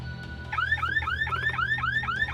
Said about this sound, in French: Merde, une alarme.